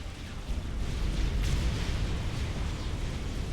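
Battleship exploding in the strategy game Supreme Commander: Forged Alliance, a deep rumbling blast with a swell of noise midway that lingers as a low roar.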